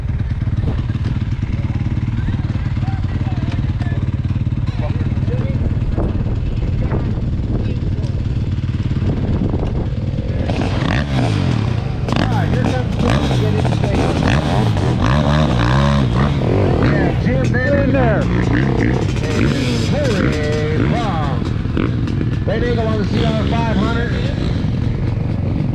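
A pack of motorcycles, including stock-wheelbase 500s and a KTM, launching at a verticross hill-climb race start, building from an idling rumble to a loud, roaring rush of engines, with people talking over it.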